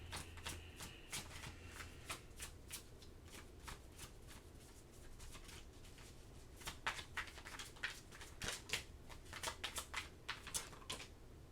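Tarot cards riffled and shuffled by hand in a quiet room, a steady run of crisp, close flutters and soft taps with no talking.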